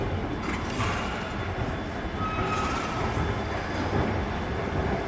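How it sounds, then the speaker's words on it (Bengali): A metro train at a metro station gives a continuous, fairly loud rumble of rolling cars, with a faint thin squeal partway through. "এখন আমরা মেট্রোতে যাব মেট্রো স্টপিসে যাইতেছি"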